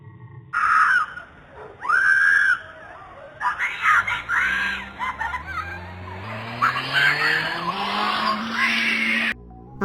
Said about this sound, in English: A female was seen screaming for help as she was driven away by a male in a possible 4-door white Prius.